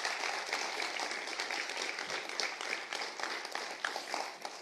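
A church congregation applauding together, a dense, steady wash of clapping that sounds fairly distant and even throughout, with no talk over it.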